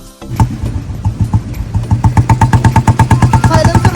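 Vintage motorcycle engine kick-started and settling into a steady idle, its loud, close, even thumping pulses repeating in a regular beat.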